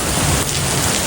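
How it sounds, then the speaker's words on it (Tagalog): Hail pelts down and bounces off surfaces outdoors in Canada, a dense, loud, continuous roar of impacts like heavy rain with no voices. "Umuulan ng yelo."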